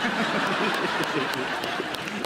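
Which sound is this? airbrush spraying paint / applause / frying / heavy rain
applause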